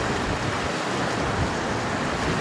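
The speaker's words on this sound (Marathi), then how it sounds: "पाण्याचा आवाजही ऐकू येतो." The Krishna river rushes strongly past Koteshwar temple near Limb, a dense, steady roar of flowing water with no breaks, loud and close, with no voices.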